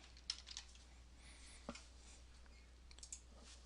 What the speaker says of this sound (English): we could type in some description